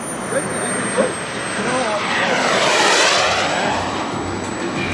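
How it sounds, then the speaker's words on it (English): Model jet aircraft, a BAE Hawk, flying a display at a jet club event, a sustained turbine whine that swells as it passes close by around the middle and then recedes, with crowd and announcer sounds faintly underneath. "Last plane that's in the air right now is Nehoray Shvartz"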